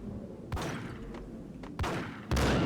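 Three loud shotgun blasts from the video game Max Payne, fired close in a bathroom at steady intervals of about a second and a quarter, each a sharp broadband boom with a lingering tail.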